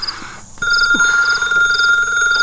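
A telephone rings indoors with a repeating electronic trill in short regular bursts over a steady tone. It is loud and close, with no talking over it.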